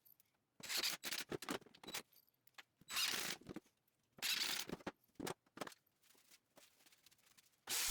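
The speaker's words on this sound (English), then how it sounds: "Sand the transition from the top to the legs." Hand sanding smooths the joints on a bench built from wooden 2x3s. Short, quiet, raspy strokes come in irregular bursts with brief pauses between them.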